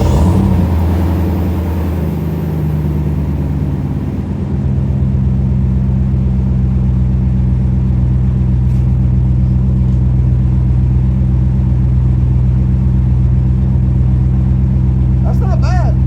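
A V8 engine fitted with a fart cannon exhaust idles with a deep, loud, steady rumble through a booming exhaust after a brief surge at the start, continuing without pause.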